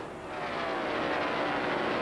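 A NASCAR stock car engine roars as it gets back on the throttle at the 1997 Brickyard 400 at Indianapolis, a loud, sustained rising drone that builds steadily with no voices over it.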